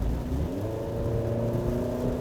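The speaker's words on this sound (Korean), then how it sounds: "만약에 GT 모드에서 좀 악셀레이터를 깊게 밟는다?" Maserati Grecale Modena SUV accelerating hard in GT drive mode, its engine note rising steadily and continuously from near the cabin, a loud, sustained drone with no talk.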